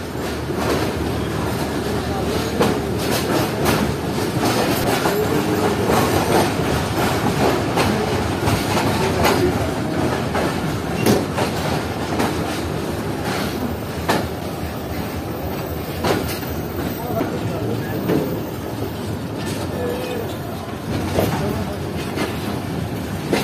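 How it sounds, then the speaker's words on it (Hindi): Pak Business Express train pulling out of Karachi, a steady rumble with rhythmic clickety-clack of wheels over rail joints, moderately near and continuous throughout with faint background noise. "ये पाक बिजनेस एक्सप्रेस को कराची से निकलता हुआ देखते हैं"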